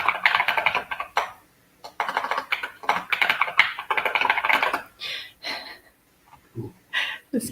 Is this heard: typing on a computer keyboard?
yes